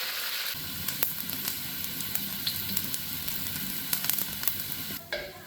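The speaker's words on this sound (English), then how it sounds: "then add the cilantro roots to fry" Cilantro roots sizzle and fry steadily in oil in a pan over low heat, a close, continuous crackling hiss that cuts off near the end.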